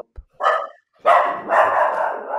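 A dog barks close by in a short burst: a quick yip followed by two louder, drawn-out barks, heard alone without talk.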